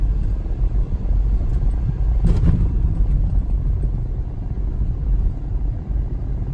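Steady low road rumble from inside a running car cruising at about 40 mph after a gear shift, with a brief whoosh midway and no voices.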